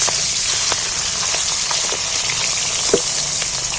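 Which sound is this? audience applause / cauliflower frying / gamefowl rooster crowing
cauliflower frying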